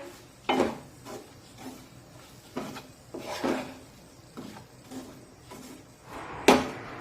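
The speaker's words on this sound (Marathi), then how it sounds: "या पिठाला उलटण्याने सतत परतत राहायचं" Jowar (sorghum) flour roasting in a pan while a spatula stirs and scrapes it, giving a handful of dry scraping strokes at an irregular pace, close and fairly quiet, with one sharper knock near the end.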